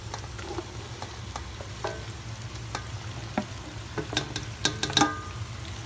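Chopped onion frying in a pan for a Kerala-style crab roast, with a steady sizzle under repeated scraping and stirring clicks that grow louder toward the end, close up and with no talk.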